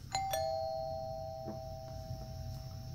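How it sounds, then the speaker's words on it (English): A doorbell in the Fears to Fathom: Home Alone video game rings with two quick chimes, then a clear tone that rings on and slowly fades. A few soft knocks and thumps sound underneath, and nobody speaks. "ring the bell so I can go down there"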